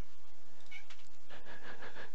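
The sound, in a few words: cat meowing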